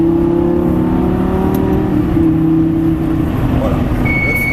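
A Lamborghini Gallardo accelerates hard on a race circuit, its engine note climbing in a strong steady roar heard close up from inside the car.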